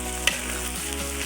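Fenugreek paste and five-spice mix hitting hot oil for mango chutney, making a steady crackling sizzle with one sharp spattering pop near the start, close and continuous.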